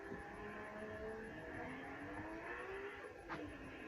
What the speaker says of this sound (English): That turbo lag always gets you, doesn't it?